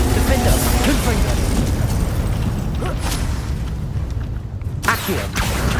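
Confringo spell blasts in Hogwarts Legacy: dense, continuous booming and rumbling combat explosions with whooshes and bursts, loud and close throughout.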